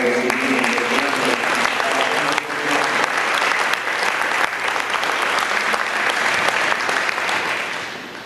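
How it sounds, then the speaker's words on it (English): An audience at an FFA awards banquet applauds steadily and densely for several seconds, a full room of clapping that tapers slightly at the end. "please give these green hand degree recipients a round of applause"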